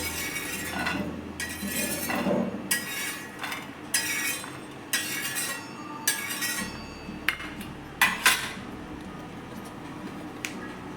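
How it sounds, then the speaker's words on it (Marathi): Roasted peanuts are moved from a hot pan onto a plate, giving a run of scattered clinks, scrapes and light rattles spread over several seconds at close range, with no talk. "शेंगदाणे भाजून झालेले आहेत आपले ते मी काढून घेते एका प्लेटमध्ये"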